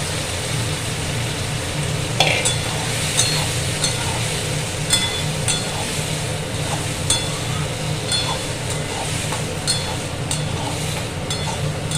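Peas and potatoes fry in a spiced pan for ghugni, giving a steady, dense sizzle with occasional clinks of stirring throughout.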